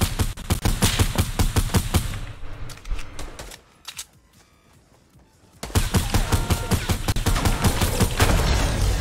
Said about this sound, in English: We're gonna shoot it at the same time here.